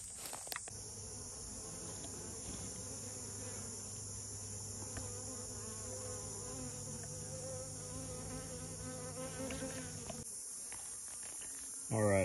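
Dense, steady droning hum of many honeybees buzzing close by at a top bar hive, continuous for several seconds before cutting out near the end.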